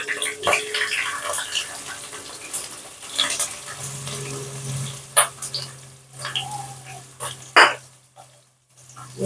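Green chillies and onions go into a hot pan for a chicken curry, a soft sizzling crackle with scattered pops and stirring clinks, close and moderately quiet, with no talking.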